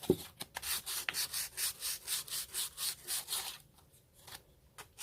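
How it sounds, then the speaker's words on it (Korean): Rapid rhythmic rasping of sandpaper on wood, a dozen or so quick strokes close by, then it stops and a few faint scrapes follow. "다른 면도 이렇게 같은 방법으로 사포질을 해줍니다."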